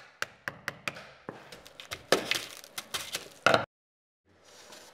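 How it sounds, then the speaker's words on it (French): A wood chisel knocks loose the lower piece of a laminate floor board, producing a run of sharp, close taps and cracks in uneven rhythm, then a sudden silence and a faint hiss. "Avec un ciseau à bois, tu peux détacher le morceau inférieur."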